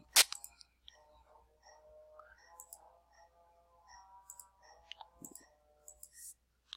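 A computer mouse clicks on a search button: one sharp, close click at the start, then faint scattered small clicks and soft computer noises.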